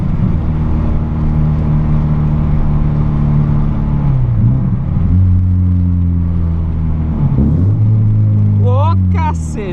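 A Volkswagen Golf MK3 with no mufflers on its exhaust drones loud and close from inside the car, its pitch rising and dropping through several rev changes, with quick blips near the end.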